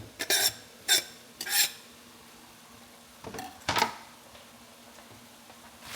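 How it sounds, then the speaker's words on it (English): A whole onion is tipped into a pan and stirred: a few sharp scraping clatters of utensil against the pan, then two more stirring scrapes after a pause, over a quiet background hum. "Add in my onion. I'm going to do the whole onion."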